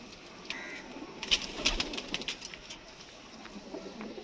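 Faint cooing comes from pigeons kept on a rooftop in Gujranwala, soft and a little distant, with a few light chirps over a low background hum.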